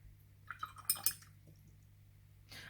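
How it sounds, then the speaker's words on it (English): Water is brushed and dripped onto warm quinacridone-like Blockx watercolor paint, giving faint, soft wet dabs and a few light clinks in a quiet room, with a brief splashy swish at the end. "I'm adding a lot of water"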